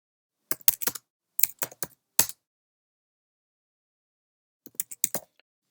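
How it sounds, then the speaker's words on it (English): Fingers type HTML code on a computer keyboard, giving crisp close keystrokes in two short bursts separated by a few seconds of silence. "Go to the new line and type in H1 style."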